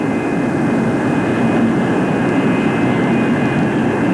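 Steady, loud jet roar of a Convair F-102 fighter rolling down the runway with both main tires blown, a continuous broadband engine rush with no breaks throughout.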